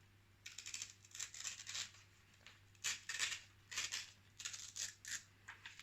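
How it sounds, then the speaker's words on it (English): Folded paper being pulled apart along a crease while making an origami ninja star, heard as a series of close, crisp rustling and tearing bursts in an uneven rhythm, with no talking. "And now I will just pull it apart."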